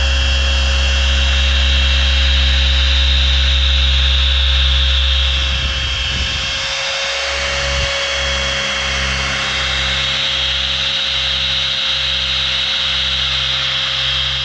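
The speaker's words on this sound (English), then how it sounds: "just crank it up to 6 and just let the polisher do the work" A machine polisher set to speed 6 runs steadily on the paint of a Roush F150 pickup, a loud continuous whine with a low hum, dipping briefly midway before resuming at an even pitch.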